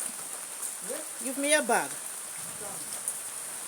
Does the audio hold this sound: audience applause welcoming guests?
no